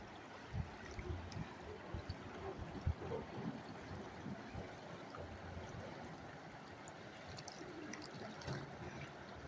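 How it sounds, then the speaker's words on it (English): The fast-flowing Toad River in British Columbia rushes steadily, a continuous broad watery roar with small splashes, heard from nearby at an evening campsite, fairly faint and with no talking. "This river is really moving."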